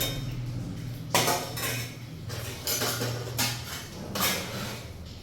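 Silver utensils and a gold spoon being handled and washed, with repeated close metallic clinks and clatters in bursts over a quiet background, no talk.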